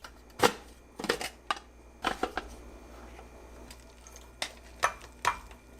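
Onions chopped in a KitchenAid 5 cup food processor, heard as irregular bursts of blade thuds and rattling pieces spaced a second or so apart, moderately close with quiet gaps between pulses.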